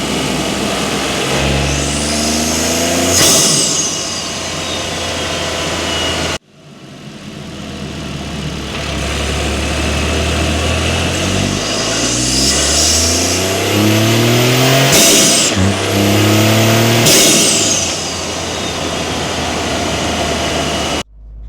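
A Toyota GR Corolla fitted with a Forge intake revs hard in repeated loud bursts, engine note climbing and falling with a brief cut and sharp blow-off valve hiss between pulls, close and alone.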